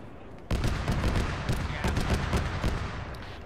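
A BTR-80A armored vehicle's autocannon fires in a military video game, a sudden burst that starts with a sharp crack and keeps going as rapid, heavy booming shots, loud and close with no speech.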